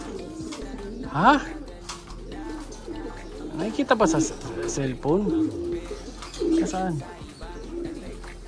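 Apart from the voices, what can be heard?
pigeon cooing in a tree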